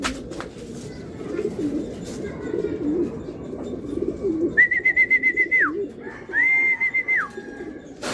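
A racing pigeon arriving at its loft during a derby, with low, murmuring coos throughout and two long, high whistled tones later; nearby and fairly clear.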